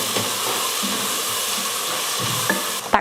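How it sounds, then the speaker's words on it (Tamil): Tomatoes sautéing with masala powder in a pan give off a steady close sizzle and soft stirring scrapes, ending in a brief louder clatter. "இதையே வதக்கிடலாம்."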